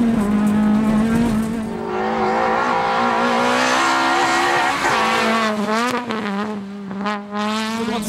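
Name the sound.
rally car Peugeot 206 braking and cornering on a stage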